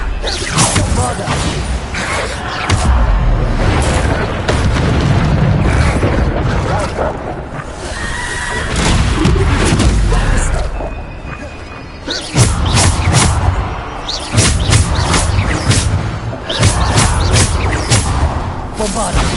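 The Bombarda explosion spell from a wizard video game goes off repeatedly: loud booms and whooshing bursts mixed with mechanical game effects, separated by brief lulls.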